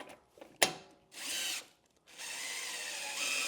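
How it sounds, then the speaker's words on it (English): A power drill spins a Porsche center-lock wheel nut down its thread. Two loud, close whirring bursts follow a sharp click, then a longer steady run of the drill, with no talking. "I'll then grab my drill."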